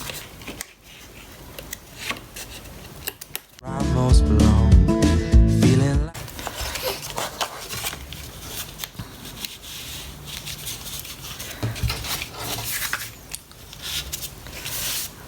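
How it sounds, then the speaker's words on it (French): Scissors snip away excess from a decorative paper strip during Stampin' Up scrapbooking, a dense burst of crisp cutting and paper rustle for a couple of seconds amid quieter handling noises and shuffling. "on va venir découper avec les ciseaux cette partie là"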